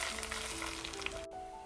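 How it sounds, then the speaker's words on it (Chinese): Hot oil left over from frying needlefish is poured onto a seasoning sauce of scallions, ginger, garlic, chili, cooking wine, vinegar and fish soy sauce, giving a brief, steady, quiet sizzle that cuts off abruptly. "煎鱼剩下的油给它浇到料汁上"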